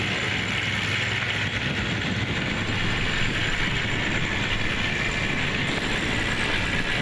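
A sailboat winch ratchets continuously as the mainsail is raised, a dense rapid clicking that runs steadily and loudly throughout.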